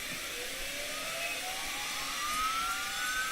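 Boeing 737-300 auxiliary power unit spinning up in the IXEG flight simulator, a steady whining turbine roar with a tone that climbs gradually and continuously, heard alone at moderate level.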